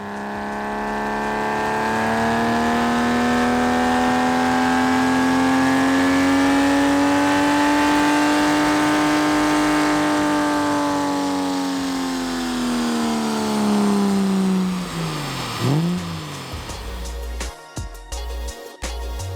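A Porsche 996/997 sports car with a central-exit sports exhaust revs hard and holds a high, rising exhaust note for many seconds, then drops off sharply, followed by brief mechanical clatter.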